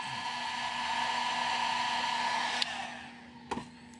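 A heat gun blows a steady, loud airy roar with a humming tone while heat-setting paint on a crankbait lure, then switches off and winds down, followed by a couple of sharp clicks.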